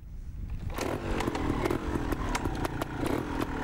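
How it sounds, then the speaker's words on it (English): A teen rider's trials motorcycle engine fires up and revs with a raspy, buzzing snarl, loud and close, with rapid throttle blips throughout. "Start your engine."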